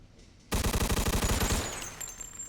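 Rapid burst of enemy gunfire in the Mafia 2 Definitive Edition video game, a loud, evenly spaced automatic volley of about a dozen shots lasting a second, trailing into a ringing echo and scattered sounds.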